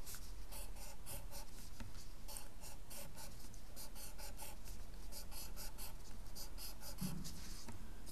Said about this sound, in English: we've got 8 squares to draw